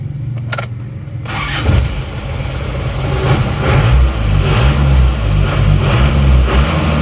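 An Isuzu Panther diesel engine, just after a timing adjustment, cranks, catches and settles into a steady, loud rumbling idle with a rhythmic knock, close by.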